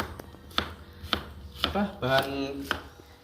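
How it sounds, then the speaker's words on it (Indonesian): Shallots chopped with a knife on a cutting board in a home kitchen, a series of five or six sharp, evenly spaced knocks about half a second apart, close and clear with faint background noise. "Dan ini bawang merah saya potong-potong dulu."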